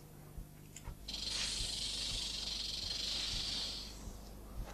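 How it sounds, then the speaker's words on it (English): A snake hissing in a steady, sustained breathy rush lasting about three seconds, fairly close and alone, with a few faint taps before and after. "Snake escaped from local zoo."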